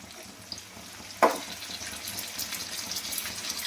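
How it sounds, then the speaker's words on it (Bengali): Pointed gourd (potol) frying in hot oil, a steady soft sizzle with a sharp splash or clatter early on, then continuous crackling bubbling close by. "গরম তেলের মধ্যেই তো ভাজা হচ্ছে"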